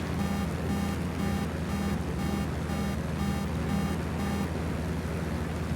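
A repeating electronic warning alarm from a SAM site in Ghost Recon Wildlands pulses in an even, rapid beeping rhythm, steady and continuous over constant engine-like background rumble.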